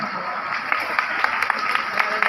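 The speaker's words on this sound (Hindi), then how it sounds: "जोर से बजाओ ना ताली।" Steady applause from a large crowd at a rally, dense continuous clapping with sharper individual claps popping out, sustained throughout at a fairly loud level.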